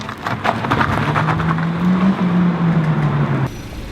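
A 2016 Renault Megane GT engine held on launch control, a loud steady drone with the revs climbing slightly and holding, over rushing noise, before dropping abruptly near the end.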